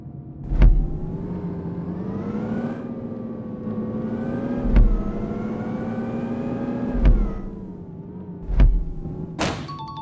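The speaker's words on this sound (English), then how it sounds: "Now change the gear to reverse and accelerate to move the vehicle in backwards" Simulated bus engine in an Indian bus simulator game revving steadily while reversing, a continuous mid-pitched drone that rises and dips, with four sharp clicks spaced through it and a brief high whine at the end.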